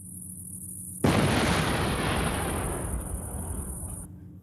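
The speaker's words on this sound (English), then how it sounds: "when the explosion triggers, we'll hear the explosion on top of that" A single sudden explosion bursts in over a quiet cricket loop, a loud booming blast with a long rumbling decay that fades over a few seconds.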